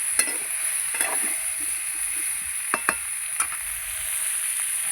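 Shish spinach going into a hot pan of fried vegetables and shrimp, giving a steady bright sizzle with a few sharp scrapes and taps of a spoon stirring, close and continuous without any talking.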